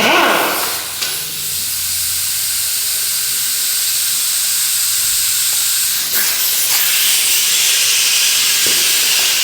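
Dual-action orbital sander working over a finned valve cover, a steady loud broadband hiss and whir running continuously, with a brief dip near the start and small scuffs as the pad shifts.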